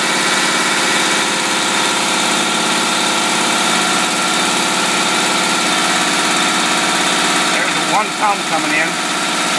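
A boat engine idling on a two-barrel carburetor with its fuel supply restricted, a loud continuous droning rumble close by, with a brief bump near the end and a voice speaking briefly over it.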